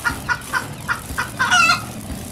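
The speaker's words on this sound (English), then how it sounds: "Chickens make a cluck sound." A chicken clucks in a quick series of short, bright calls, about six in a row, ending in a slightly longer, louder squawk.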